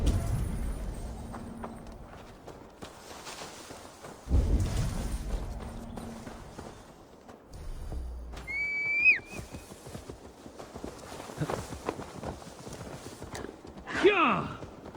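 A horse's hooves clip-clop in a steady rhythm in Assassin's Creed Valhalla, close and clear, with a brief whistle and a neigh among the hoofbeats while a voice talks over them.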